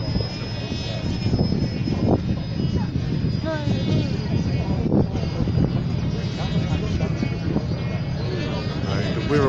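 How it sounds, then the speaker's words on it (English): Wirraway trainer aircraft flying at a 2019 air show in Edinburgh, South Australia: a steady, loud broadband engine roar that persists throughout, with crowd voices faintly mixed in. "The Wirraway's up in the air."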